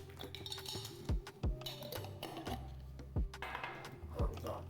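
A spoon clinks and scrapes against a bowl while baking soda is mixed into mashed bananas for quick banana bread, with several sharp knocks spread irregularly among softer stirring clatter, close and moderately loud.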